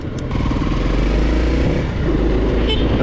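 A Honda CRF300L dual-sport motorcycle being ridden, its engine a steady, close, continuous drone with low rumble and wind noise, smooth and even throughout with no talking.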